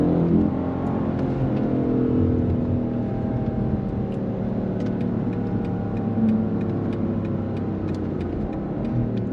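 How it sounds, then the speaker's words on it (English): BMW M850i with its V8 engine pulling hard under acceleration, a steady loud exhaust drone and rising engine note heard close and continuous, with no talking. "Just the thrust, the torque, the sound of the V8."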